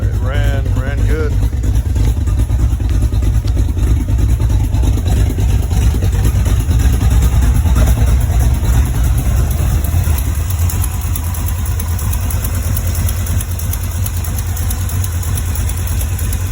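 V8 engine in a Chevy Vega fed by a 650 dual-feed vacuum-secondary carburetor, idling loud and steady with an even low rumble throughout while someone talks nearby.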